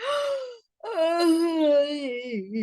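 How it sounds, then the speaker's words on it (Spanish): A person lets out two drawn-out, voiced yawns with a falling, moan-like pitch, separated by a brief silence. "Cuando nos estiramos y bostezamos es porque muchas veces necesitamos ese respiro."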